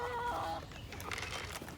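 Backyard chickens clucking at morning feeding in a muddy garden, a few close, soft clucks and calls from the flock, fairly quiet overall.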